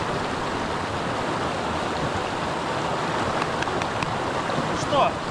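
The winter-time Tkhab, a mountain river at the Plesetsk waterfalls, rushes steadily in a dense, even wash of flowing water, with a few faint tones and a brief louder splash near the end.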